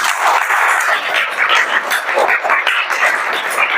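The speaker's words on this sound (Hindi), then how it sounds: "बिल्कुल सही बताया बच्चे ने, ताली बजाओ इसके लिए।" Children in a Class 7 maths lesson clap together for a classmate who answered correctly, a dense, steady burst of many small hands filling the room without pause.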